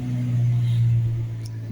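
A car engine strains uphill on the Abha–Al Soudah mountain road in Saudi Arabia, giving a steady, close, low droning hum that holds throughout with no break.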